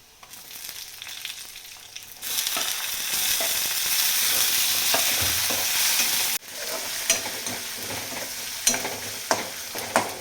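Chopped tomatoes drop into a hot pan of reddish-browned onion for a spicy brinjal-potato curry. A soft background hiss jumps to a loud, steady sizzle, with scattered scraping stirs and clicks of the spoon on the pan. No one speaks.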